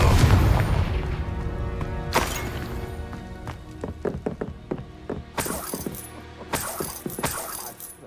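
A Confringo fire spell in the video game Hogwarts Legacy lands with a booming explosive burst, followed by crackling, rattling debris and further sharp blasts that ring out and fade.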